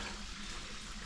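Small waterfalls at Pickle Springs Natural Area in Southeast Missouri trickle lightly, a steady soft wash of splashing water with no voices over it.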